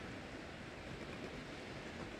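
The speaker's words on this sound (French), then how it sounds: "dans une tente, au milieu du fleuve Saint-Laurent, avec les bruits des vagues" Steady, broadband wash of waves on the Saint Lawrence River heard from inside a tent, a constant faint rushing murmur without distinct breaks and with no voices.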